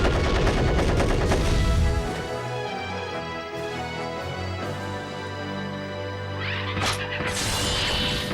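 A dense, loud blitz fire attack effect in the Yu-Gi-Oh The Falsebound Kingdom video game: a rapid rattling barrage that gives way to sustained tonal ringing, with a sharp crash-like burst near the end.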